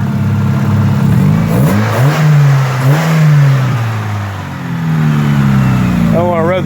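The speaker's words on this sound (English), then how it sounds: "I don't want to rev the shit out of it because it's cold" A cold Hyundai Tiburon engine revs in a few short, moderate blips, rising and falling close by, with people talking over it.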